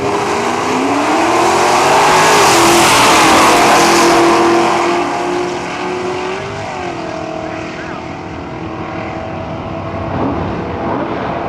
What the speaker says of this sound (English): Let's see if the Maverick makes it off the top end of the track.